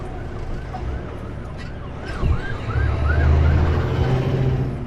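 An ambulance passes through traffic on a Spokane, Washington road, its wailing siren sweeping up and down in repeated cycles, growing louder amid the rumble of nearby car and truck engines.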